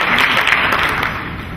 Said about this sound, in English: So give yourselves a round of applause one more time.